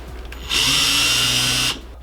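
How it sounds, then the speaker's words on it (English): Countersink bit in a power drill smoothing out a hole in a steel heart, a loud steady grinding whir lasting just over a second that starts and stops sharply, close by. "another way to help smooth out this hole is to use a countersink"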